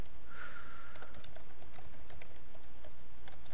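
Typing on a computer keyboard: a quick, uneven run of close, light key clicks over steady background hiss, with no voices.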